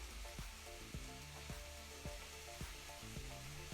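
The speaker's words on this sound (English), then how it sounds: "So I'm just going to add a few of these capers in." Capers are stirred into oxtail pasta in a hot pan, giving a steady soft sizzle and frying hiss with regular scraping clicks from the stirring utensil.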